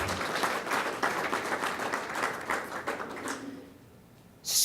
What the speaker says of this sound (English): So I want you to applaud that.